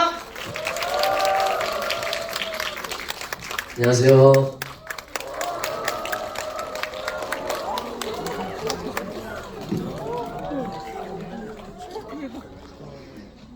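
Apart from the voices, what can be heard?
cinema audience applauding the director and actors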